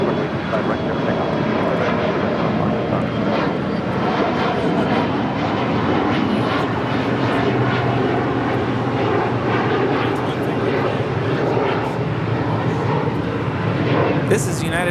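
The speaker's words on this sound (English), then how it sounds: "This is United Express 5612 departing to Redmond on an E175." United Express Embraer E175 departing from runway 25R at LAX, a loud, steady roar of jet engines at takeoff power that fills the whole stretch with a broad, unbroken rumble, with voices faintly underneath.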